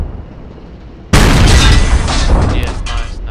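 A tank cannon fires in the Project Reality video game, a Leopard 2A6 main gun letting loose one loud, close boom that cuts in sharply and then rumbles on as a sustained roar to the end.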